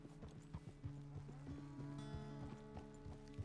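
Horse hooves clip-clop in a steady, fairly quick rhythm of close, hollow knocks at low volume, heard alone over a soft humming background in Red Dead Redemption 2.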